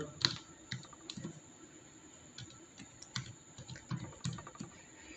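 Typing on a computer keyboard: close, irregular bursts of crisp key clicks with short pauses between them and no voices.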